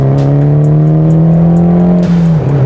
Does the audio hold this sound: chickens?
no